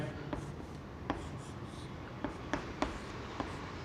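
Writing on a board produces soft, close taps and short strokes, several distinct clicks spaced irregularly over a faint background hiss.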